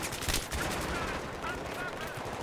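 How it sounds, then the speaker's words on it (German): Rifle fire in the Battlefield 3 campaign crackles in rapid bursts, several loud shots close together at first, then a dense, sustained rattle of distant gunfire under a hazy battle din. "jetzt kann man wieder mit Gewehren rumschießen"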